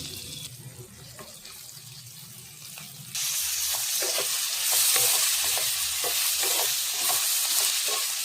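Chopped broad beans fry in hot oil for a tomato curry, with quiet scraping at first, then a louder steady sizzle and repeated close stirring strokes in the pan. Nobody speaks.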